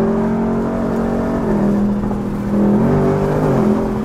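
Ford car fitted with a Steeda air intake accelerating on the freeway, a loud steady engine drone heard from inside the cabin, its pitch stepping up through gear changes with a constant road rumble beneath.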